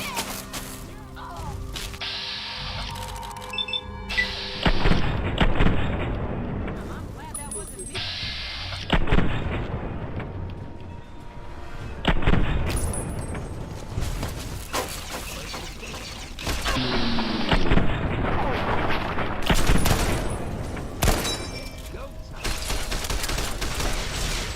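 Gunfire and mechanical clanks in the video game Fallout 3, with repeated heavy shots and bursts spread across the span amid rattling equipment sounds and intermittent speech.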